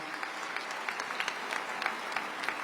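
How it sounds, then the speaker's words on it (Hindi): An audience at a poetry gathering (kavi sammelan) applauds to welcome a guest, steady, fairly quiet clapping throughout with no voices over it. "एक बार जोरदार तालियों के साथ आप उनका स्वागत कर दीजिएगा"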